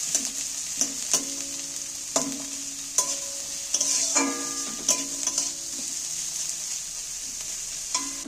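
Softened onions fry in a pan over lowered gas flame, giving a steady bright sizzle broken by repeated scraping stirs and clinks of the spoon at irregular intervals.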